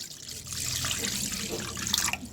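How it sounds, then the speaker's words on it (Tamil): Water running from a tap or poured into a pan of chopped vegetables for a Tamil aviyal, a steady close splashing stream lasting a couple of seconds with no talk. "காய்கறி மூழ்கிற அளவுக்கு தண்ணி தண்ணி விட்டுட்டு"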